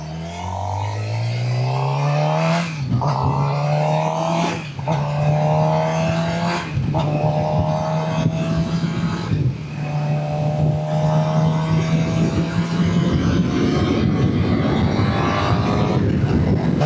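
Suzuki GSXR 600 motorcycle accelerating hard, its engine pitch climbing through several quick gear changes in a loud, continuous run, with rising wind noise toward the end.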